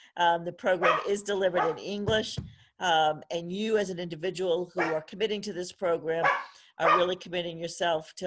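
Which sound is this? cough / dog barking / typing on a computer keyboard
dog barking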